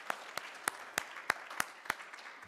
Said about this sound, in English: big round of applause again for the students